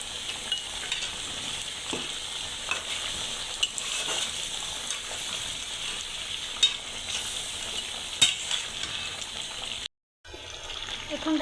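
Beef for a special biryani made without sour yogurt, frying in a pot with black pepper and sugar, gives a steady broadband sizzle with occasional scraping clicks from stirring. Brief silence near the end, then cooking noise resumes.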